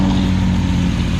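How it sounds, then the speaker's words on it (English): A Chevrolet Chevelle engine idles steadily on its first heat cycle after sitting forgotten, puffing a little blue smoke, with a constant low rumble up close. "idling away here on its own for probably a good 10 minutes"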